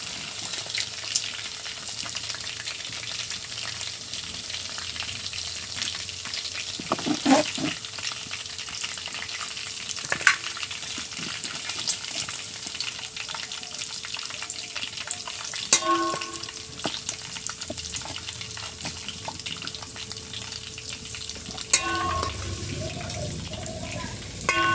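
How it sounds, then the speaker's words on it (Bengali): Meat fries in a pot for biryani over a clay stove, a steady sizzle broken by occasional scrapes and knocks of stirring, with a voice speaking faintly now and then. "হ্যাঁ, বাকি যে মাংসগুলো আছে এগুলো দিয়ে দিলাম, এগুলো ভাজবো।"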